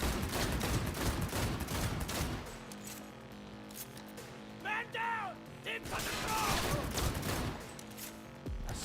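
Gunfire in the video game Cyberpunk 2077: dense bursts of shots at the start and again near the end, with a quieter stretch of game sounds between, all under a talking voice.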